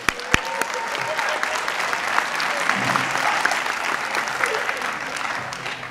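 Applause at a state champion ring ceremony for a girls flag football team: a steady, moderately close burst of clapping from an indoor crowd, holding level throughout with light crowd murmur.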